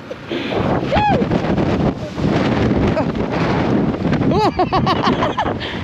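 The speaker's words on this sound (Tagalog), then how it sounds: "Ang lakas ng hangin." Strong wind rumbling hard against the microphone outdoors, with heavy continuous buffeting and voices calling out over it.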